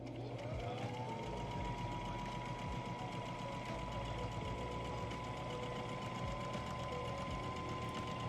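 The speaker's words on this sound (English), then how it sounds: "When you get to the end of sewing your seam, you always want to remember to backstitch, which is the reverse button that is on your sewing machine." A sewing machine stitches a fabric seam with a steady, fast mechanical whir and rhythmic needle clatter, running continuously at a low, even level.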